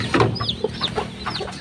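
Chickens clucking close by, several birds overlapping in a busy, continuous chatter of short calls.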